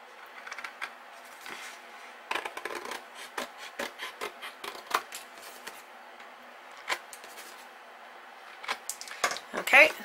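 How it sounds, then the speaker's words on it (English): A blade scrapes through paper along a score line while a mini album is made, giving a series of faint, dry rasping strokes at an uneven rhythm, close to the microphone. "we're just going to cut the rest of that score line"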